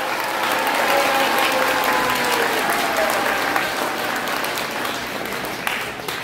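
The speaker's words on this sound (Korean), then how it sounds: "큰 박수 한번 해주시기 바랍니다" A large audience applauds at a Korean political education meeting, sustained dense clapping that fills the room from start to finish with a faint murmur of voices underneath.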